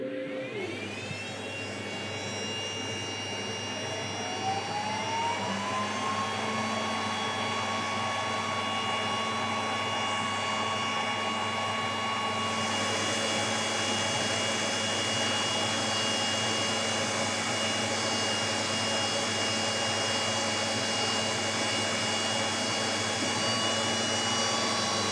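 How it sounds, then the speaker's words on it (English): WeCreat Vision Pro laser cutter working through a pine 2x4, giving a loud, steady whirring drone with sustained tonal fan and motor whine that holds constant for the whole stretch, no voices. "I'm gonna get this in the machine and let's get cutting."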